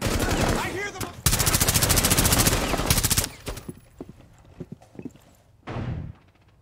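Rapid automatic gunfire from the video game Rainbow Six Siege, a loud, dense burst of rattling shots lasting a few seconds, followed by scattered single shots and a short final burst.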